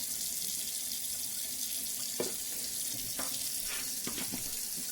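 A kitchen sink tap runs steadily while hands are washed, a soft continuous water hiss with a few splashing bursts toward the end, fairly quiet and without talk.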